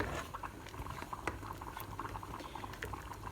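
Red lentils (masoor dal) bubbling in a pot as they cook down into a thick dal bhuna, with a steady low simmer and soft popping bursts continuing alone throughout.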